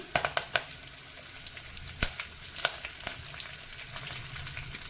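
Curry leaves and cumin seeds hit hot oil in a pan, giving a close, crackling sizzle with sharp pops and spits scattered throughout, no voices over it.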